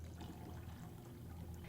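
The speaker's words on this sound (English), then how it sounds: "the first thing you want to do is cover them with cold water" Cold tap water pours into a saucepan holding eggs, a faint, steady splashing trickle heard close and alone.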